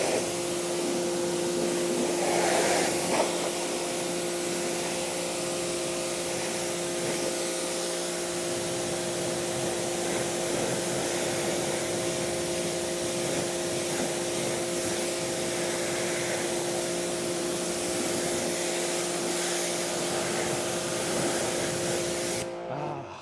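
Water sprays hard against the wheels of a GMC Sierra 1500 pickup truck, a loud, steady hiss that holds almost unbroken for over twenty seconds and stops abruptly at the end, with a machine hum running beneath it.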